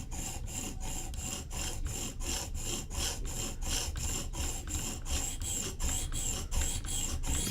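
A Koenig Arius knife edge is drawn steadily across a sharpening stone in even, rhythmic rasping strokes, roughly two per second, close and continuous with no talking.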